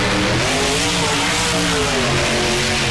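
A CRD Patriot monster truck engine revs loudly in the BeamNG video game, a continuous roar whose pitch rises and falls as the throttle changes.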